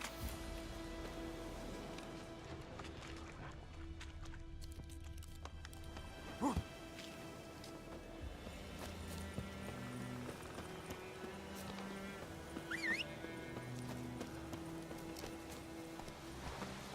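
Roach, a horse in The Witcher 3 video game, runs with soft, steady hoofbeats under a rain-like wash of noise, and a couple of brief louder bursts could be neighs.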